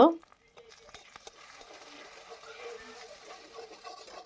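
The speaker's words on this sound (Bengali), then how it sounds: "নেড়ে নেড়ে একটু ঝুরি ভাজার মতো করে নেব।" A soft sizzle with light scraping of a spatula stirring egg being scrambled in a pan, after a brief sharp knock at the start.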